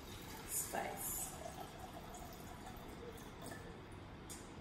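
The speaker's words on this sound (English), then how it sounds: "Now I can swoosh it carefully and my water is flowing through and moving around that bowl quite nicely there." Water sloshing and trickling inside a fish bowl as it is filled and swirled around, a soft continuous low-level liquid wash with a few brighter splashes near the start.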